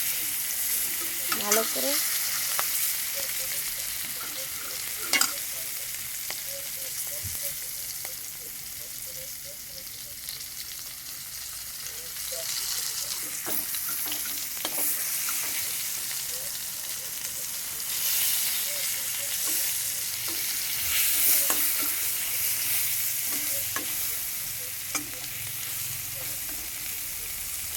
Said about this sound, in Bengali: বন্ধুরা, আমার পটল ভাজাটা হয়ে গেছে।